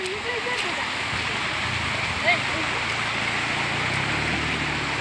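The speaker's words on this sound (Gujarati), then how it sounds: "વહેતા પાણી જોવો." Water flowing through a stream at Hanuman Gala in the Khambha Gir forest area, a steady rushing wash that continues throughout with faint voices in the background.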